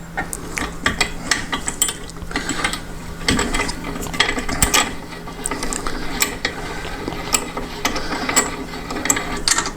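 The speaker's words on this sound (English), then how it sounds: "I'm going to clamp it in place with the C-clamp" A C-clamp is cranked tight onto flat stock for a folding LNB arm mount, giving a run of close metallic clicks and ratcheting scrapes in quick, uneven bursts with no talk.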